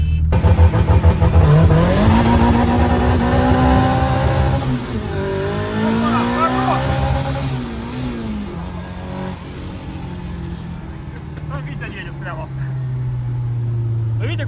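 A turbocharged Lada 'Kopeyka' engine revs and climbs in pitch as it pulls away from a start, rising through gears, with people talking and shouting over it.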